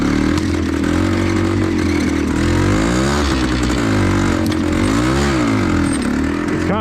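A 1974 Suzuki TC185 two-stroke motorcycle ridden hard on slick enduro terrain, its engine loud and close, revving up and down in repeated surges with clattering mechanical noise throughout.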